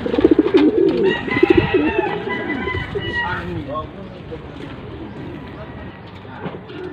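Pigeons cooing close up in a loft, soft repeated coos and rustling, with people talking in Filipino over them.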